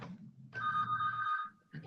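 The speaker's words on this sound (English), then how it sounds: "Oh my God, my house phone is ringing." A house telephone rings once with a trilling electronic bell during a board of health meeting, heard at moderate distance between low murmurs of background talk.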